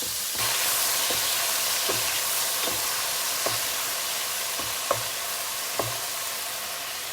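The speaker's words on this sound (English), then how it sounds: "Saute the garlic first." Garlic sautés in a hot pan for a mixed vegetable dish with baby corn, giving a constant loud sizzle broken by periodic soft knocks of a spatula stirring, close up with no talking.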